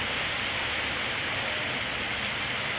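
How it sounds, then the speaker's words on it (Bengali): Steady rain falling outdoors on a wet morning, an unbroken dense hiss that holds at the same level from start to finish with no other sounds. "আজকে চিন্তিকে নিয়ে স্কুলে যাবো কী করে এই বৃষ্টির মধ্যে"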